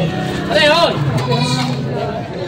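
Goats bleat loudly at a crowded livestock market in Padre Garcia, Batangas, a prominent wavering cry rising over a background of chatter and crowd murmur.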